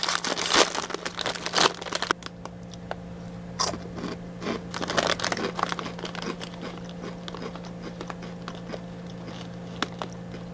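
Bag of Doritos Dynamita spicy chips crinkled and rustled up close, with sharp crackling bursts early on that settle into quieter intermittent rustling over a steady low hum.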